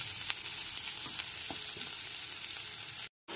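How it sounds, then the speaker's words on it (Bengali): Chopped tomato frying with ginger paste in a pan, a steady hissing sizzle with occasional soft stirring knocks, cutting off abruptly to silence near the end before resuming. "টমেটো কুচিটাও আদা বাটার সাথে খুব ভালো করে কষিয়ে নিতে হবে।"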